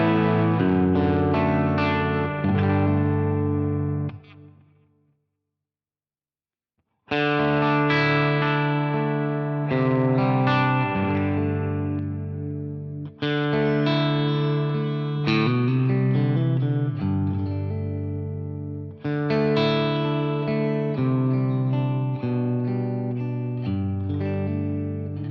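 An electric guitar runs through a Laney Ironheart 60W amp pedal set clean with a touch of drive, strumming chords and ringing notes in phrases broken by a short silence, played alone without talk.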